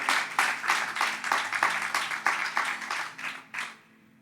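A church congregation claps in rhythmic unison during a Sunday service, steady moderately distant beats of roughly two per second that fade out after about three and a half seconds.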